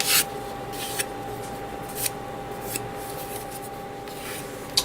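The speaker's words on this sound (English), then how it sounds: "sanding down and cleaning up all these parts" Steady scratchy rasping of sanding on small hard plastic model kit parts, continuous strokes with a few brighter scrapes, close and fairly quiet, no talking.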